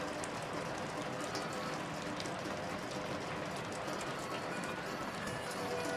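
Steady rain falling in the video game Shadows Over Loathing, a continuous broadband hiss with faint pattering, constant and even throughout with no clear breaks.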